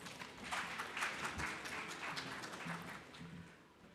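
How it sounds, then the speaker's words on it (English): An audience at an India fintech festival session gives a round of applause to welcome a keynote speaker; the clapping is fairly soft and fades gradually over a few seconds. "Please welcome him with a big round of applause."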